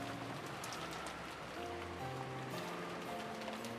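Steady rain with wind in the visual novel Umineko, a dense continuous patter under soft low background music tones.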